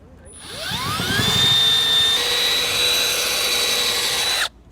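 A power drill with a 3/8-inch bit drills a bolt hole, whining up to a steady high-pitched spin, running continuously for about four seconds before cutting off abruptly.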